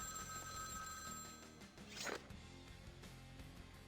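An in-game telephone ringing in a diner in Vampire: The Masquerade - Bloodlines, a steady electronic ring with a brief rattling burst midway, moderately loud over a low, busy background.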